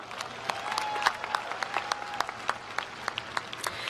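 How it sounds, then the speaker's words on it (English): A crowd at a spring university commencement ceremony breaks into a round of applause, dense and sustained clapping from many hands with sharp individual claps standing out, heard without speech. "Can we get a round of applause?"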